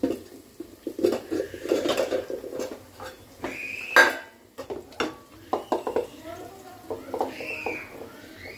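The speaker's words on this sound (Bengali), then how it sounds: "এখন মাংসটা দিয়ে দেবো।" Raw, washed chicken pieces go into a pot for chicken biryani, giving scattered clattering knocks and soft wet patters of metal and meat. Someone talks over them.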